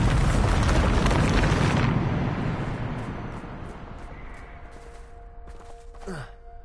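A Bombarda spell blast in Hogwarts Legacy bursts loud and broad, then its roaring rumble fades away over several seconds, leaving quieter ambience with a few faint tones and a brief whoosh.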